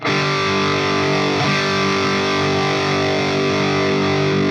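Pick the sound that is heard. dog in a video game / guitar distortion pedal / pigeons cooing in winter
guitar distortion pedal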